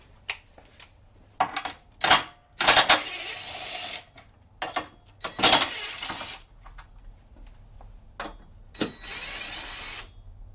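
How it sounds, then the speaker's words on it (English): A power impact gun working bolts on the intake of a 2012-2016 Chevrolet Impala 3.6 LFX V6, in loud short bursts of rattling whir separated by quiet pauses, close up in a garage with no talking. "Try to find my impact gun"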